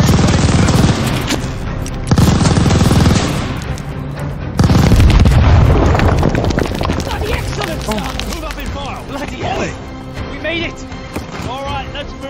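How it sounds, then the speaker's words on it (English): Loud machine gun fusillades and heavy grenade booms from a Call of Duty Vanguard campaign battle against a tower MG nest, dense continuous gunfire with repeated deep blasts throughout, under shouted voices. "Keep that tower MG down! We need a grenade on that MG!"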